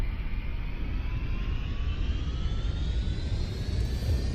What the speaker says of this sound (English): I'm going to throttle up.